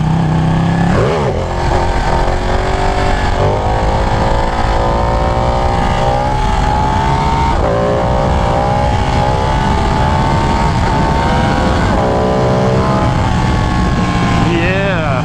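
A Ducati Panigale 1199 motorcycle engine roars loud and close during a wheelie, holding a high sustained rev with rising and falling pitch sweeps as the throttle is worked.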